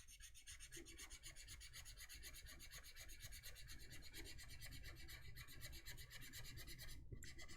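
A colored pencil burnisher rubs on cardstock, making a faint, steady, close scratchy rasping that runs on without a break.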